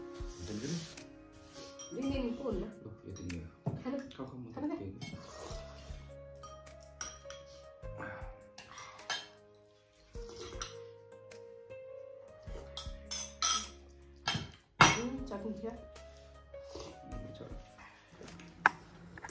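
Dishes, pots and pans being handled and washed after a meal of momo and soup, with repeated glassy clinks and clatter of cutlery and crockery in bursts, alongside musical tones and some speech.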